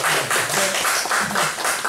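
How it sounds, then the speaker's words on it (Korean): An audience claps together at the end of a talk on online shopping consumer protection, a dense, steady patter of many hands that stays loud and close for the whole moment, with no voices over it. "박수 한번"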